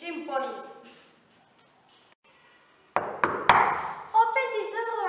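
Several hard knocks bang on a door in a quick uneven burst, loud and close, with people talking and shouting before and after.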